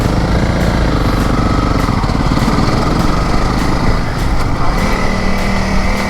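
A motorbike engine drones loudly and steadily, revving as it churns through thick beach sand at Rainbow Beach, a close, continuous buzzing roar with no talk.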